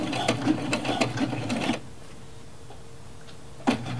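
Sewing machine stitching a plush monster, a rapid mechanical chatter running steadily for nearly two seconds, then stopping, with a brief restart at the end.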